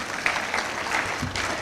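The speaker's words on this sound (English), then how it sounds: "Yes, I think that deserves a clap as well." An audience claps at a university congregation ceremony, a steady wash of many hands clapping together, fairly loud and even, with a few louder single claps over it.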